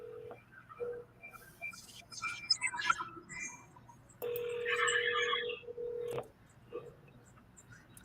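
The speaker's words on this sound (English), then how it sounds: "Let's just call him and see what happens." A telephone call is dialed on a sales cold-calling line. Short key tones and clicks come first, then a sustained ringback tone for about two seconds, with faint murmured talk around it.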